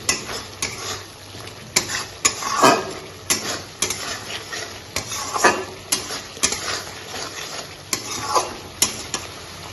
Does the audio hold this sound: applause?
no